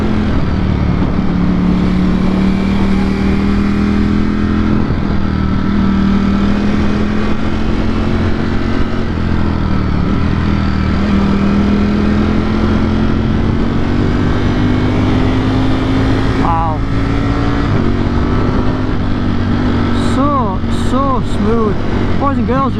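A 2021 Ducati Streetfighter V4S being ridden through corners, its engine droning steadily and loudly with pitch rising and falling as the rider accelerates, close up under constant wind rush.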